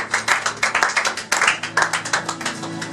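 Congregation in a church service claps in a quick, steady rhythm, close and loud, with a low sustained tone beneath.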